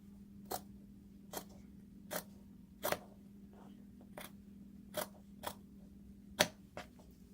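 Scissors cut denim for a skirt made from jeans. The sharp snips come at a steady pace over a low, steady hum, with about ten distinct cuts.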